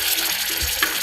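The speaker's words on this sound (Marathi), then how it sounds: "आता यात मी बारीक चिरलेला टोमॅटो घालून घेते" Finely chopped tomato drops into a pan of frying drumstick masala, raising a steady close sizzle with a few brief stirring bumps and no voices.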